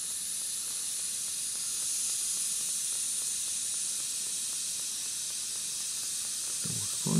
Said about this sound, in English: The water boiling.